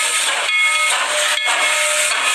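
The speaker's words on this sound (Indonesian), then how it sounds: "ini Toy Train Thomas." A toy Thomas steam train lets out a continuous loud whistle, hissing with a breathy, airy tone, briefly dipping twice before resuming, close and steady throughout.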